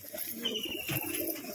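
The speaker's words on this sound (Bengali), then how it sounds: "বিস্কুট কালার পায়রা রয়েছে" Biscuit-coloured pigeons coo in soft, low bursts close by, with faint background noise and a thin high tone running underneath.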